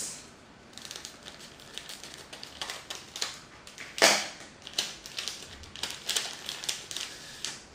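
A gummy candy package being opened up close, with small crinkling and crackling of plastic wrapper in irregular bursts and one sharper tear or rip partway through, no voices.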